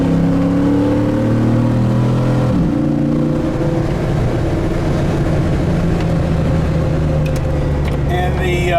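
Steady in-cabin drone of a 500 hp HEMI-swapped Jeep JK driving, a low engine hum with road rumble throughout and a brief shift near the middle, loud and continuous.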